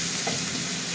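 Chunks of elephant foot yam and potatoes fry in hot oil in a pan alongside shrimp, a bright, continuous close sizzle with a brief stirring scrape.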